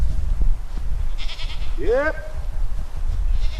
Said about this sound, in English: Now my goats, let me call them.